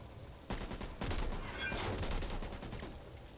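Gunfire from the co-op zombie shooter Back 4 Blood: a dense burst of shots starting sharply and sustaining as a heavy, loud volley for about three seconds, with no talk over it.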